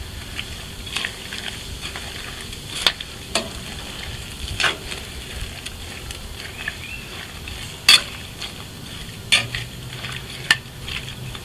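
Peppers, onions and beer bubbling and sizzling on a Blackstone griddle, a steady close hiss with periodic sharp metallic scrapes and clinks of a spatula across the flat top.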